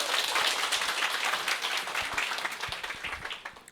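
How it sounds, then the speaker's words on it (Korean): A lecture audience bursts into applause, a dense and lively patter of many clapping hands that stays steady before thinning out and fading at the end. "다시 한번 박수 한번 보내주십시오"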